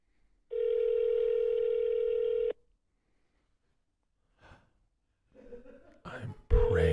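A telephone tone sounds for about two seconds while a call waits to be answered, followed by a short gap and then scattered noises, with a second tone starting right at the end. Voices are faint.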